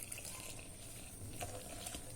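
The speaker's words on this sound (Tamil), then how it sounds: "தண்ணி வந்து ஒரு 2 டம்ளர் ஊத்திடுறேன்" Water pours into a bowl of semolina dosa batter, a faint, steady trickling splash with soft gurgles, heard alone in a quiet kitchen.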